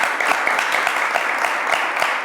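Studio audience clapping during a French-language talk show on addiction, a dense steady patter of many hands close by, sustained across the whole moment with no voices over it.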